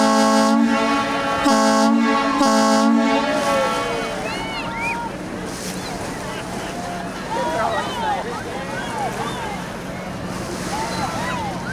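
A boat horn sounds on the water during a waterfront tour at Sault Ste. Marie: one long steady blast followed by two short ones, loud and close, with wind and water noise and people talking afterward.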